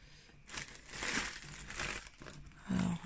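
Crinkly plastic parcel packaging from a paper order being opened, with continuous crumpling and rustling up close, rising and falling in bursts over a few seconds.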